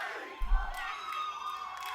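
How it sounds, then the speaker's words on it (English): Esports arena crowd at a Sentinels versus LOUD Valorant grand final roars and cheers, a sustained wall of shouting with a swell near the start, loud and continuous throughout. "Listen to that crowd."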